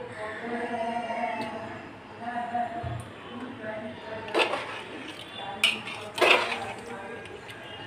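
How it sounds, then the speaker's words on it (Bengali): Potatoes stirred with a metal spoon in a pressure cooker pot holding a country-chicken curry: a few sharp metallic clinks and scrapes against the pot come under steady conversational talk. "আলুটা দিয়ে একটু নেড়ে চেড়ে দিলাম"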